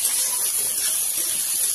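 Chopped onions frying in hot oil with a steady, close sizzling hiss that holds at an even level from start to finish, softening toward golden brown while a whole fish curry is being prepared.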